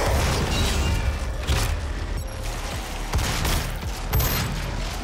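Dense, loud combat din from the DOOM 4 (2016) PC campaign: a steady rumble of booming blasts and heavy shotgun fire with mechanical clanks, a few sharper hits standing out, continuous without talk.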